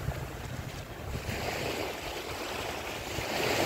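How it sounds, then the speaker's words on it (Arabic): Gentle sea waves at Port Fouad beach in Port Said, a soft continuous surf wash mixed with wind buffeting the microphone, swelling slightly toward the end, with no talking. "الموجه مش عاليه قوي لسه يعني الموج معليش شايفين ما شاء الله منظر البحر"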